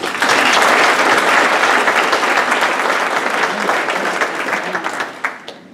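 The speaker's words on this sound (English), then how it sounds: "Let's give them a round of applause." A crowd breaks into loud, sustained applause that gradually thins out into scattered claps.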